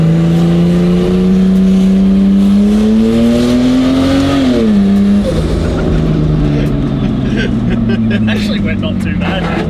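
A turbocharged Holden VL wagon engine revs hard under boost, pitch climbing steadily and then dropping sharply before settling into a rough, loud idle-to-rev drone with crackling and whooshing. Close and loud throughout.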